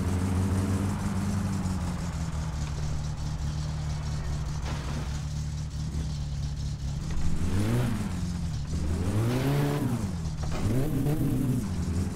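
Car engine in My Summer Car on a gravel track, a steady droning hum that later rises and falls through several loud revs as the car speeds along, with the tyres crunching on gravel beneath.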